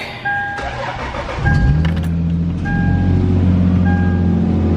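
A Lexus IS300 with a weak, nearly dead battery cranks and then catches: a struggling starter grinds briefly before the engine fires and settles into a steady idle rumble, close by, with faint beeping chimes repeating throughout.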